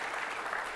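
Applause from a meeting audience during a 2019 summer meeting, a steady dense wash of many hands clapping at moderate volume, continuous for the whole short stretch without voices over it.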